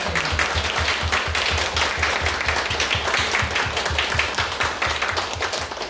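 A church congregation at an Easter Sunday worship service claps in a steady, rhythmic beat, many hands striking together in time for about six seconds, loud and continuous with no voices standing out.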